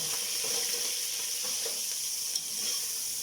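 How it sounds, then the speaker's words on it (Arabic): Grated onion frying in hot oil for an Egyptian tomato-and-onion spaghetti sauce, a steady soft sizzle throughout with a faint stir or clink near the end. "وبشر بصل هنزل بيه على الزيت"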